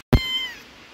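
A kitten lets out a single short, bright meow after a brief silence, close and clear, trailing off within half a second.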